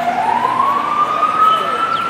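A loud, close, steady ambulance siren tone that slowly rises in pitch, with no break in its sound.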